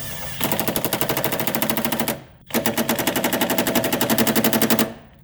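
An impact gun loosens a battery bolt on a 2008 Pontiac Montana, rattling out two loud, rapid hammering bursts of about two seconds each with a short pause between, close by and with no speech.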